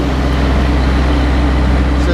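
A Willys CJ2a's L134 engine running with the throttle pulled out, a loud steady low rumble and hum heard up close and unchanging through the moment, with no voices.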